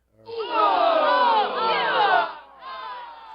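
A studio audience at a TV show shouts and cheers together, a loud burst of many overlapping voices crying out in reaction. It swells for about two seconds, drops briefly, then resumes more softly.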